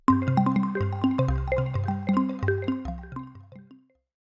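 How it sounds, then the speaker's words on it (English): Bamboo chimes sample played through the sampler of the ANA 2 software synthesizer by Sonic Academy: a quick cascade of tuned, plucky struck notes, each decaying fast, rolling steadily for about four seconds before ringing out. "and even bamboo chimes."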